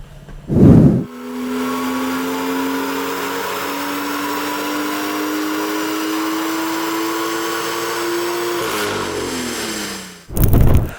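A tuned BMW M2 with an N55 engine running on methanol winds up on a dyno in one long steady pull, its tone rising smoothly for several seconds before cutting off, with short loud bursts before and after.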